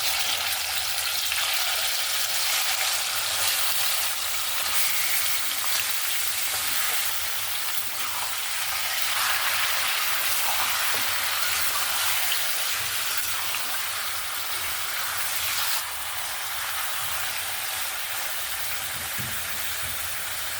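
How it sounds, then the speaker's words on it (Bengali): Chicken pieces frying in hot oil make a continuous crackling sizzle, dense and even throughout, close by and moderately loud, with no voices. "ওই তেলের মধ্যেই চিকেনগুলোকে প্রথমে একটু ভেজে নেব"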